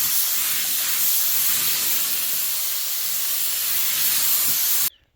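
A spray paint can laying down a wet pass of lime green pearl coat, a loud continuous close hiss that holds steady for several seconds, then cuts off abruptly.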